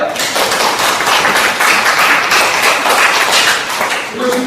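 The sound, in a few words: audience applause, clapping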